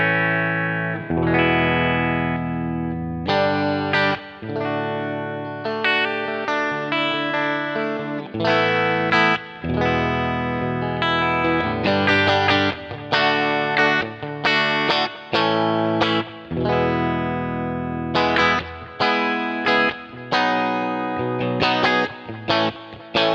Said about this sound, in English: it'll switch to the other delay